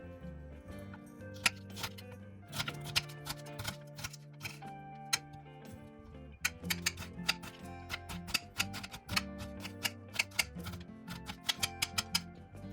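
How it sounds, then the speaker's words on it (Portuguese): Kitchen knife slicing a bell pepper on a cutting board, a series of crisp, irregular chopping taps in quick clusters, close and fairly quiet, with no talk. "Vou cortar também um pimentão."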